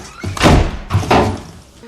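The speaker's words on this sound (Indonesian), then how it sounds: "terbangun karena mendengar suara ketokan pintu" Two heavy, dull knocks land on a door about half a second apart, loud and close with a boomy resonance and no talking.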